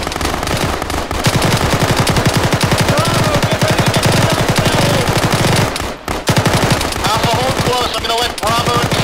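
Sustained automatic machine gun fire in the Arma 3 video game, loud, dense rapid bursts running almost continuously with a brief pause midway, voices faintly underneath.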